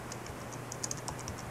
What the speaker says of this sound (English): just go ahead and type tomahawk